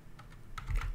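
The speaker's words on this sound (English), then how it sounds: "I can barely type" Rapid, close keystrokes patter on a computer keyboard in a short burst, getting busier toward the end, over a soft low hum with no voices.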